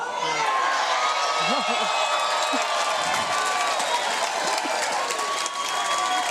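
Crowd at a U.S. Open women's doubles beach volleyball gold-medal match cheering and applauding: continuous loud clapping mixed with whoops and high shouts, sustained throughout.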